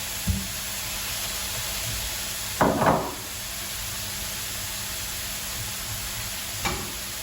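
Minced pork set into a pan beside cauliflower rice and other ingredients fries with a soft, even hiss, broken by a few brief scraping stir sounds; no one speaks.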